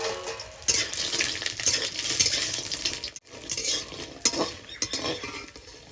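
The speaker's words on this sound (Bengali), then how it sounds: "বড়িটা আমি লাল লাল করে ভেজে নেব। অনেকগুলো বড়ি দিচ্ছি।" Lentil dumplings (bori) fry in a pan, with a faint sizzle under frequent clinks of a metal utensil against the pan and scattered stirring clatter, all close up.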